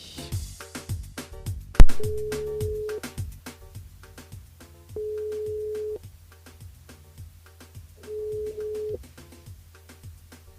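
Repeated electronic telephone ring tones, each burst lasting about a second with pauses between, sound over background music during a call to a radio show listener.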